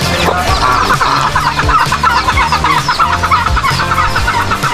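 Backyard chickens cluck loudly and repeatedly nearby, including a brooding hen with her newly hatched chicks, in a rainy-season poultry yard shared with ducks and turkeys.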